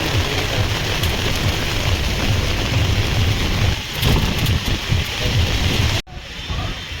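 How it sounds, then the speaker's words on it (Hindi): A steady roar of heavy rain with wind buffeting the microphone in Dadri Market, Greater Noida, continuous and loud, briefly cut off near the end. "जबरदस्त बारिश लग गई फिर से एक बार"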